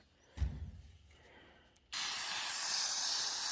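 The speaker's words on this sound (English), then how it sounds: "Spray it for a little bit." Aerosol can of Goof Off solvent sprayed onto the rusty, dirty body of a Bronco: after a faint knock, a loud, steady, close hiss starts abruptly and runs for about a second and a half.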